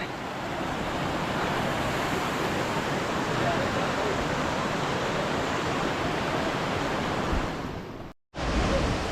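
Sathodi waterfall during the monsoon, a large fall whose rushing water makes a dense, loud, steady roar that fills the scene, then cuts out briefly near the end before resuming.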